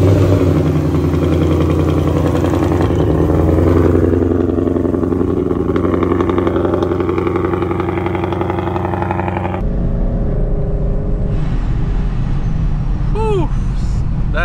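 A bagged, turbocharged Ford Mustang S550 with a 10R80 ten-speed automatic drones loudly and steadily while driving, its deep engine and exhaust note filling the cabin before easing off near the end.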